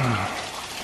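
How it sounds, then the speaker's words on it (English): Burden Falls, a small waterfall in Shawnee National Forest, southern Illinois, gives a brief, steady rush of falling water. A faint voice murmurs at the very start. "but still, it's a waterfall."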